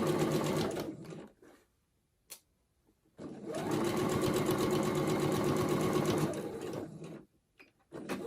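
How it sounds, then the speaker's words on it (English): Close sewing machine stitching a tote bag: a short run, a pause with a small click, then a longer steady burst of whirring stitches before it stops, with a brief restart at the end. "And then I'm just going to sew, starting holding your thread when you start, obviously, and then back up and sew across there."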